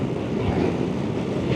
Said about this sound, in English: It's windy, it's gusty